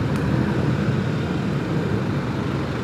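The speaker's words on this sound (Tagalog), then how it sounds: "Grabe yung traffic dito." Steady road traffic noise from a busy street, heard while riding a bike in congested traffic, with jeepneys around; a continuous low rumble with constant loudness and no talk.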